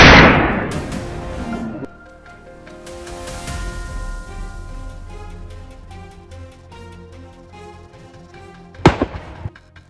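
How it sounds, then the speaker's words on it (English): Gunfire while hunting wild boars in a snowy forest: a loud, sharp blast opens with a long rolling echo, then a second sharp crack near the end reverberates through the trees. "As soon as the boars heard gunfire, they bolted in all directions, sensing imminent danger."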